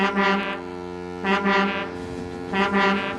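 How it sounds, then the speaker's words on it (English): A loud foghorn in a Thomas the Tank Engine story set in Misty Valley, sounding in three long, deep blasts separated by short gaps, each one full and droning. "That foghorn is so loud it rattles my dome."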